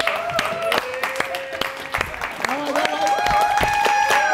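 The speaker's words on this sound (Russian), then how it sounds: "Дорогая Лера, под наши аплодисменты." Studio audience applause on a Russian comment-show set rises under sustained talking and laughter, with dense clapping mixed into continuous voices and occasional sharper hand claps.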